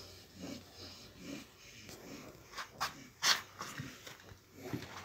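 Heavy breathing from a pregnant pot-bellied pig close to the microphone, a run of faint snorting, wheezy breaths with a few sharper, louder snorts near the middle.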